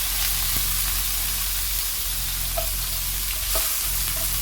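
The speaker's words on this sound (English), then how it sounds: "So now the pan is nice and warm. We're gonna add fresh coriander." Fresh coriander hits warm oil in a pan with a steady close sizzle, broken by a few soft stirring scrapes and light pops.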